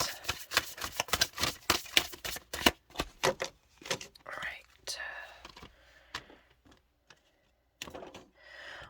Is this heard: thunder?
no